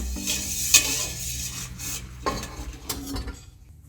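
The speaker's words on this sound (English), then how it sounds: "I just have a whisk in here just to continue with that melting process" A whisk scraping and stirring melting tallow fat in a metal pot, with irregular clinks and rubbing strokes against the pot and a faint sizzle, close up and alone without voices.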